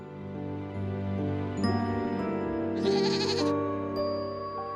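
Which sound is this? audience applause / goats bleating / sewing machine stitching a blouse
goats bleating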